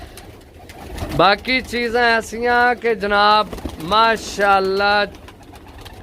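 Pigeons at a Pakistani pigeon seller's place cooing in a series of close, clear, rhythmic calls, with someone talking over them.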